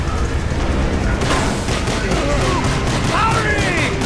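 Rapid bursts of gunfire and heavy booms from Call of Duty: Black Ops campaign battle effects, continuous and loud, with faint voices underneath.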